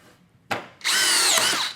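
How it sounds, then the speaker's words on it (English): A DeWalt 20-volt max cordless drill drives a FlexTorq bit into a wooden 2x4: a short click, then a loud, steady high-pitched motor whine as the screw goes in, alone and close. "Try it in our 20-volt max drill."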